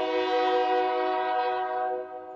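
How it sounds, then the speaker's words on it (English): A very loud train horn sounds close by in one long, steady multi-tone blast lasting about two seconds, then drops slightly in level near the end; no talking is heard. "This is the loudest train I've ever heard in my life."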